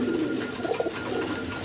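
Pigeons of a short-face breed, red and grey birds at a wholesale pigeon seller, coo softly in low murmuring bursts throughout, fairly near, with no talk over them.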